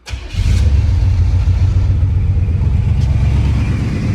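A Chevrolet Monte Carlo SS, left sitting for over ten years, cranks and fires up, its engine settling into a loud, steady running rumble that holds to the end.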